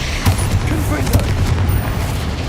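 A loud, booming blast from the Confringo fire spell in Hogwarts Legacy, with a couple of heavy thumps inside a dense rumbling game soundscape, close and forceful.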